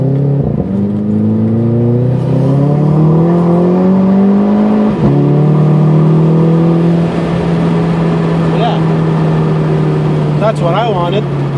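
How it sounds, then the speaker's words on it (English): A tuned car with an ECU remap and turbo-back exhaust revs hard, its loud engine note climbing and dropping through several rev sweeps close by, with crackles near the end. "I put a turbo back because I love the sound of the car."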